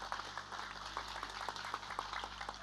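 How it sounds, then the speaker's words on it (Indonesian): Faint, thin applause from an audience at a religious walimatul hajj gathering honoring BTV, a scattering of soft claps over a steady low hum. "Tepuk tangan untuk BTV."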